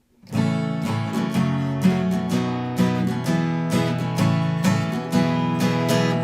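Guitar chords of a song strummed in a down, down, up pattern for each chord, a steady loping rhythm of full, ringing strokes heard up close and unaccompanied.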